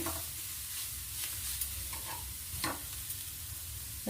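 Spoon stirring coriander leaves and coriander powder into a dosa batter mixture, with soft wet scraping strokes repeating irregularly, close and moderately loud, with no voices.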